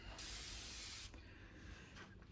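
Inside a hotel quarantine room, 80% alcohol disinfectant spray gives one long, close hiss of nearly a second, then a brief softer puff follows a moment later.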